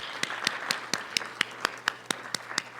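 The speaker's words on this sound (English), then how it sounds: "let us give Dr. Nteri and KaAbBa and another round of applause" Audience applause at a spiritual development workshop, with sparse, evenly spaced claps ringing out over a soft background wash of clapping for about three seconds.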